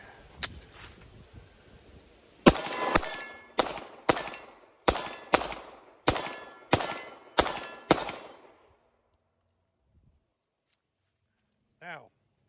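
Eight sharp, loud shots from a Bodyguard 2.0 .380 pocket pistol, fired at a steady, quick pace with metallic ringing after each, followed by a brief outdoor lull.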